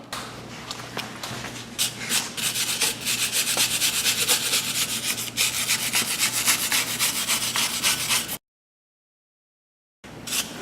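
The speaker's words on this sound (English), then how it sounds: "I'm going to get my wire brush and clean up the surface of the rotor" Wire brush scrubbing rust off a BMW Z4 brake rotor, a loud continuous rasping scrape in rapid strokes that runs for several seconds, stops abruptly into silence, then resumes briefly.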